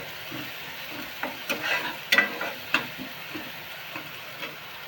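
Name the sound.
onion and masala roasting in a pan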